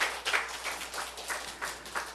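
A church congregation claps in a steady rhythmic beat, the applause fairly quiet and slightly distant, with no voices over it.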